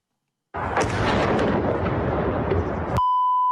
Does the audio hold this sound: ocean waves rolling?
no